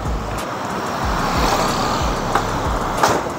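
Repeated low clunking knocks from the front suspension of a 2022 Honda Vario 160 scooter, close up, heard over a steady engine and road rumble with no talking.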